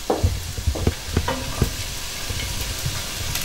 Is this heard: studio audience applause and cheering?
no